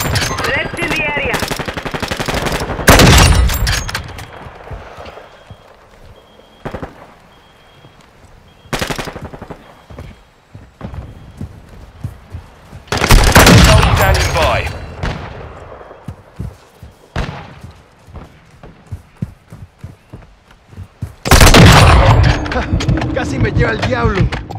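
A shooter video game erupts in loud bursts of automatic gunfire, some sustained sprays and others in short rattling volleys, broken by quieter gaps filled with scattered shots and in-game noise.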